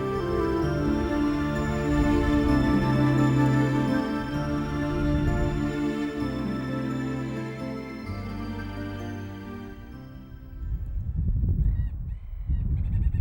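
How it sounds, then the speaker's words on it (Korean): Little auks, the smallest sea birds at about 15 cm, call in a dense, overlapping chorus on an Arctic coast, their harsh chattering cries loud and continuous without any talk. "하얀 가슴털과 검은 몸털의 대비가 뚜렷한 리틀 옥스"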